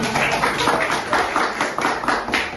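A class of students claps hands together after a presentation during a school exam session, a steady run of overlapping claps filling the room with no talk over it.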